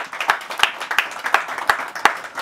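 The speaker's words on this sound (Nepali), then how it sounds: "ख्रिस्टलाई ठुलो ताली बजाएर धन्यवाद दिनेछौँ" Church congregation clapping loudly during a Nepali sermon, a steady run of sharp hand claps in a regular rhythm, close and lively, with no talk over it.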